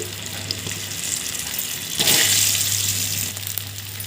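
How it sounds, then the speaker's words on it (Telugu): Boiled taro (colocasia) pieces with turmeric and salt fry in a pan with a steady, hissing sizzle that surges briefly louder midway, as if stirred, under a low constant hum, with no talking. "మనము చేమగడ్డల్ని ఈ విధంగా ఫ్రై చేసుకోవాలండి"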